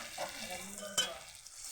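Ginger frying in a pan, with sugar and salt going in, gives a soft, even sizzle and light stirring scrapes. One sharp click of a utensil stands out midway, and no one speaks.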